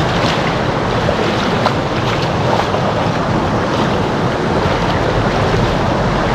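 Strong water current rushing around a fishing boat at a small hidden channel, heard as a loud, steady broadband roar with wind buffeting the microphone throughout.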